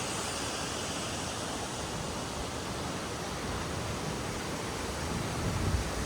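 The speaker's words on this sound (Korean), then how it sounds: "양폭포 주변 풍경" Yangpokpo waterfall in Seoraksan's Cheonbuldong valley roars as a steady, dense broadband rush of falling water, constant and loud throughout with no voices.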